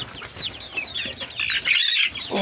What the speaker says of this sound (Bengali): মোরগ তো অনেকগুলাই মুরগি আছে অনেকগুলা